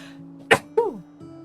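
A single sharp sneeze bursts out close to the microphone, followed by a brief breathy exhale, against a faint background hum.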